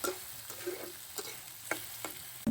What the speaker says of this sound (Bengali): পেঁয়াজ আর টমেটো আমি তেলের মধ্যে ভালো করে ভাজবো।